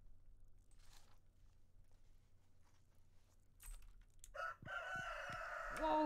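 A rooster crows in the Stardew Valley video game, bursting in loudly near the end after quiet, sparse clicks, with a bright, drawn-out rising call.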